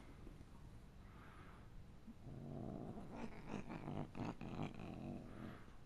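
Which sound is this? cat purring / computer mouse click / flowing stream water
cat purring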